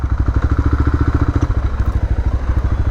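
A motorcycle engine idles and putters loud and close at the Thailand-Cambodia border crossing, a fast regular thumping beat that changes pitch partway through.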